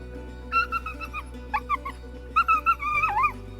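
Several hunting dogs, one of 24 out on a bear hunt, give short whimpering yips and high barks in uneven bursts, faint and fairly distant against a low steady background hum.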